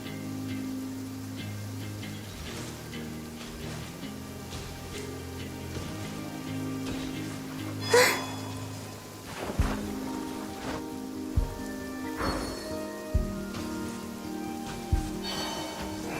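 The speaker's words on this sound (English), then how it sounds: "listening to the rain cleanse the earth makes me feel safe" Rain falls steadily in a video game scene, a soft continuous patter with occasional louder drips and thuds, at a fairly quiet level and with no talking.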